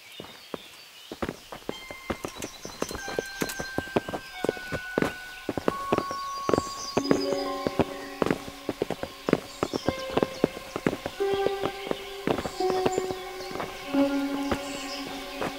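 Horses' hooves clip-clop steadily on hard ground at a walking pace, several animals close by, with scattered tonal music and faint ambient sounds underneath.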